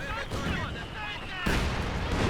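A heavy mortar shell explodes in the Company of Heroes 2 battlefield, a loud booming blast with dense rumbling debris over continuous combat noise, a second impact hitting partway through.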